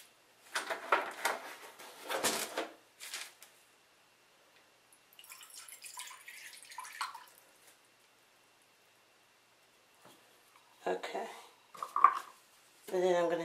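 Water poured into a measuring cup while mixing a bentonite clay hair mask at home, heard as faint splashing and trickling bursts with clinks of the cup between quiet pauses.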